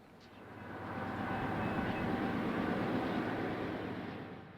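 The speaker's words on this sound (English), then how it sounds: "the Norfolk Southern could get a train through town" A Norfolk Southern freight train rumbles through town, a low rolling roar of wheels and cars that swells from a distance, holds steady, then begins to fade.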